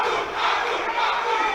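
A boxing crowd at a Birmingham fight night roars steadily, a dense, loud mass of shouting and cheering voices filling the hall without a break.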